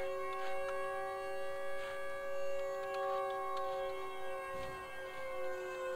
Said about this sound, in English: Is that a siren up in the distance?